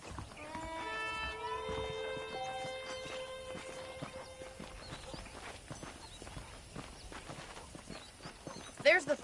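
Horse hooves clip-clopping at a walk in Red Dead Redemption, a steady rhythm of close, moderate hoofbeats under game music and spoken dialogue.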